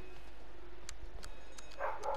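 Dogs bark in the background: a few short, faint yaps spaced irregularly, distant and alone.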